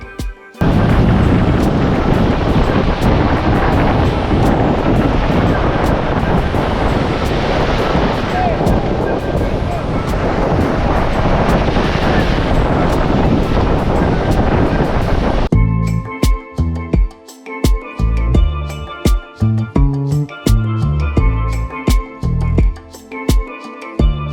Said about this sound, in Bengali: ঢেউয়ের শব্দে মন ভরে ওঠে